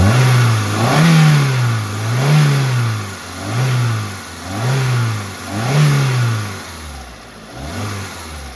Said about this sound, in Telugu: సో మనమైతే ఎక్సలరేటర్ ఇస్తున్నాం.